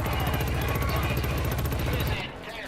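Sustained automatic gunfire in the video game Killzone Shadow Fall, a fast continuous burst loud and close, cutting off abruptly near the end with talk mixed in.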